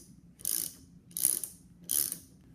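Three evenly spaced ratcheting bursts from a hand tool tightening a ferrule onto a hose held in a vise, each a crisp metallic clicking pass, close and fairly quiet with low background noise between them.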